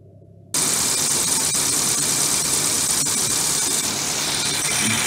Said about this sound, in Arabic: هروح اصور الموتور